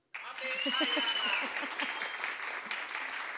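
An audience at a panel discussion on oral-culture memory bursts into steady, dense applause that starts suddenly and holds loud throughout, with a voice speaking over the clapping.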